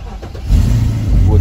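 Car engine started with the brake pressed catches after about half a second and settles into a low, steady idle rumble, heard close while people talk over it.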